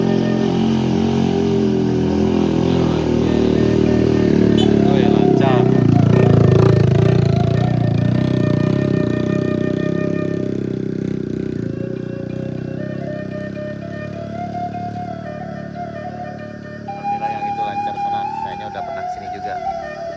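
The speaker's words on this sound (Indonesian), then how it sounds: "Ya, satu motor 3 orang di atasnya." A motorcycle carrying three riders labours along a rough mountain road between Pessel and Solok. The mid-pitched engine hum swells, then eases back, with faint voices partly under it.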